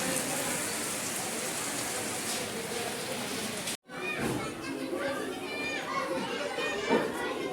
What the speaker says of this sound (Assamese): এইফালে বৰষুণ দি আছে।